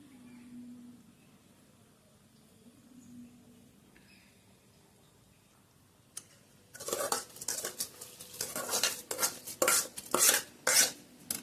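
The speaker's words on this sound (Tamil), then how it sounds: "அரிசியை போட்டு ஒரு கிண்டி விட்டுருவோம்." A ladle stirs rice in a metal cooking pot of boiling water for chicken biryani, a burst of scraping, clinking strokes after a quiet stretch, close and getting louder toward the end.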